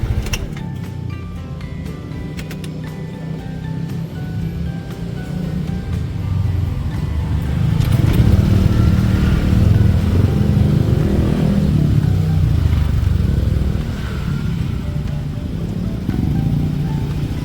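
Yamaha Aerox scooter engine idling after a restart, a steady low motor hum that rises slightly midway and holds, nearby, no voices.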